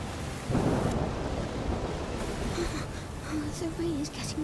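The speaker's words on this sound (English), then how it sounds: "The rain is getting worse." A low rumble of thunder rolls through steady rain in the video game A Plague Tale Requiem, with people talking over the storm noise.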